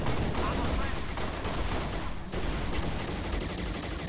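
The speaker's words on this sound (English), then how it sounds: "there's no physical way to shoot the turret that fast" Rapid turret gunfire from the Halo Reach video game rattles on as a dense, continuous stream of shots at moderate level, with other game noise mixed in.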